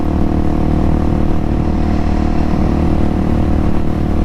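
Steady loud wind roar inside a helmet while riding a GasGas SM700 supermoto on the freeway, with a continuous engine drone underneath and no talking.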